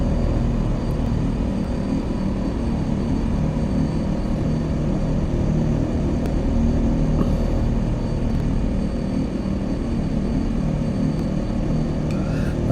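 The engine of an OV-10 Bronco twin-turboprop aircraft in a VR flight game, flying downwind in the landing pattern, a loud steady propeller drone and rumble, continuous and unchanging, with no talk over it.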